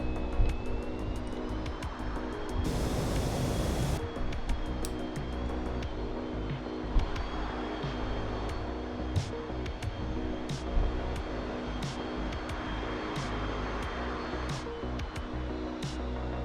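Steady, droning aircraft engine in the DCS flight simulator game, running continuously and fairly loud throughout, with a brief higher hiss near the start and scattered light clicks over the hum.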